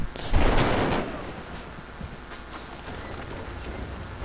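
Gatling gun fire during a battle for Sydney in the strategy game Civilization 5 opens with a loud burst of shots and a booming blast, then fades into a lower rumble of combat.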